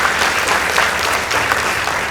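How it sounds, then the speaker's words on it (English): Audience applause for the Cheptil High School debate team at a school debate results announcement, a steady dense clapping sustained evenly throughout with no voices over it. "Let's give them a round of applause."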